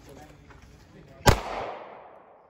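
A single sharp gunshot cracks out at a quarter target outdoors, a loud close report followed by a fading echo tail, with low voices murmuring around it.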